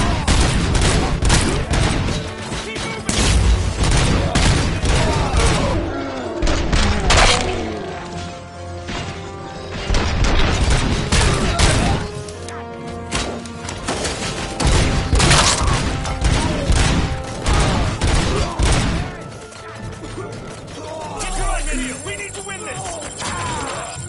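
Heavy gunfire with crashes and impacts in the shooter RoboCop: Rogue City, loud, near bursts recurring throughout with brief lulls, while a player talks over the action.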